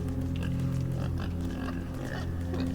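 Grunting pig in the video game Inside, a few rough snorts over a steady low game-music drone, close and moderately loud with no talking.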